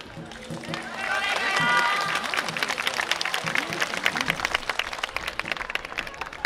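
Audience applause and rhythmic handclaps at an outdoor Odawara Essa Hoi dance festival contest, a crowd clapping steadily in a dense, continuous patter while an announcer's voice carries over it.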